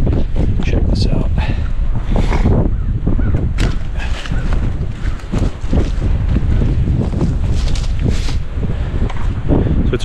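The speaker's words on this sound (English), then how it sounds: "It's a really windy day" Strong wind buffets the microphone in loud, continuous gusts at an abandoned fortress along the Mississippi, with a voice talking faintly underneath.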